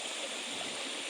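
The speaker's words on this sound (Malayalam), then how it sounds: "വെള്ളത്തിൻ്റെ സൗണ്ട് കണ്ടു" Water flows in a village river, a continuous close rushing babble with no pauses through the brief moment.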